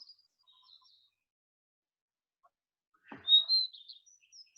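A redstart sings one short, bright phrase at close range after a few faint high notes, in a quiet public garden with nothing else heard.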